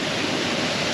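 River water overflows and rushes along a Blue Ridge Parkway stream, a dense, steady roar of flowing water filling the moment with constant broadband noise and no voices.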